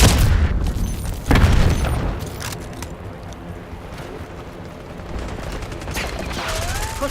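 A Semtex grenade blows up in a Black Ops 6 multiplayer Hardpoint match. A heavy boom is followed by scattered gunfire and battle noise that fade to a lower rumble, with game sounds continuing around it.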